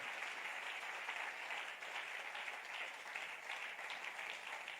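A standing church congregation applauds during a Sunday service, a dense sustained wash of clapping that holds steady throughout, fairly distant and without clear speech.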